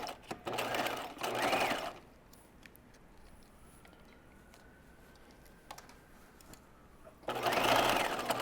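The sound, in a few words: sewing machine zigzag stitching stretch fabric seam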